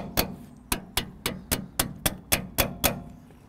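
Ten sharp metallic hammer taps knock out brake pins on a Porsche 944, landing in a steady, even rhythm, close and clear, each ringing briefly before the next strike.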